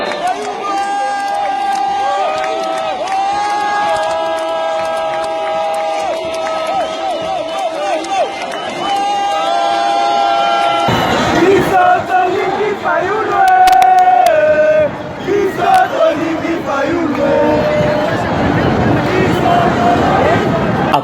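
Huge outdoor crowd at an election rally for Fayulu in Butembo, a loud, dense roar of cheering, chanting and shouting that keeps going, with music-like tones early and rising voices and whistles later.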